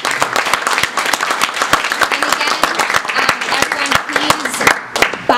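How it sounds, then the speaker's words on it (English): An audience at a 2010 digital story event applauds, a dense, steady stretch of clapping with sharp individual claps throughout and some voices mixed in. "we want to give Close to Home a huge round of applause"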